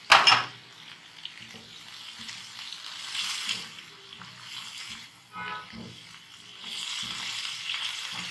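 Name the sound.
chickpeas cooking and frying in spice masala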